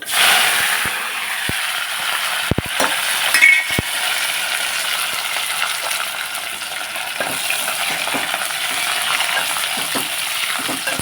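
Garlic, dried chilli, cumin, mustard seeds and curry leaves crackle and sizzle in hot oil as a steady frying hiss, with a few sharp pops and clinks of a utensil against the pan, no talking.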